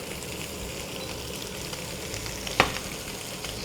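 Beef brisket sizzles and fries steadily in a hot pan, a continuous close crackle with one brief louder clatter partway through and no talking.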